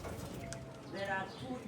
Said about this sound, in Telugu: ఇక్కడ పావురాలు కూడా అమ్ముతారు అనమాట.